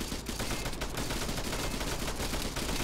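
Continuous rapid gunfire from helicopter-mounted guns in the Arma 3 video game, a dense, loud, unbroken roar of automatic fire filling the moment with no talk over it.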